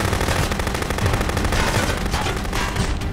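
Rapid machine-gun fire aimed at the player in Contraband Police rattles in a steady, close, continuous burst, loud and dense with no talking.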